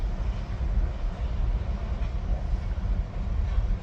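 ELS 503 locomotive hauling a long string of stored rail cars, a steady low rumble of rolling stock heard from a short distance, continuous and moderately loud with no voices.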